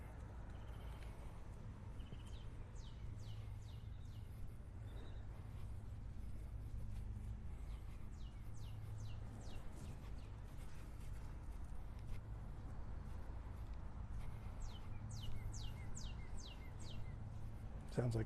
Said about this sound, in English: Sounds like cardinals chirping back there.